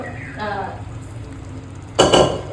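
Curry being stirred in a pot, spinach and yam in tamarind gravy, with soft scraping and clinks of a spoon, building to a louder burst of stirring near the end, under a quiet voice.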